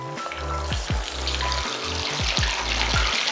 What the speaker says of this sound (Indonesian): Sekarang kita waktunya goreng ya dengan minyak yang lebih panas.